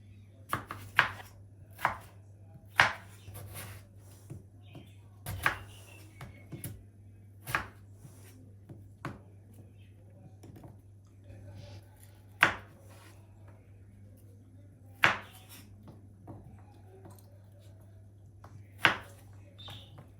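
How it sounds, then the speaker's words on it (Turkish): A knife chops through potatoes on a board, sharp irregular cuts spaced a second or two apart over a steady low hum. "Böyle çok güzel patatesler kesebiliyorsunuz bu şekilde keserseniz"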